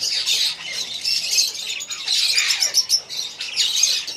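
Female budgie in a breeding setup of large Hagoromo and parblue split budgies gives repeated harsh, high squawks and chirps, close and continuous across the clip with short gaps and no talk.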